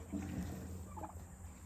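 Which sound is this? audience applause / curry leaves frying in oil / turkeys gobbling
turkeys gobbling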